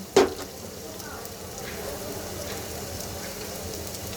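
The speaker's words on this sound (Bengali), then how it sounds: "রাঁধুনি ফোড়ন দিয়ে দেব প্রায় এক কাপের মতো এক কাপের চেয়ে একটু বেশি পেঁয়াজ কুচি" Radhuni spice and about a cup of chopped onion go into hot oil with a sharp splash, then settle into a steady, moderate sizzle that keeps going throughout.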